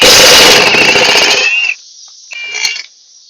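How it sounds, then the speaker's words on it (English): Milwaukee impact gun spinning a lug nut counterclockwise off a lawnmower wheel: a loud, close rattling hammer burst of about a second and a half, then a short, quieter second burst. "to get the wheel off, I'm going to put the gun on counterclockwise"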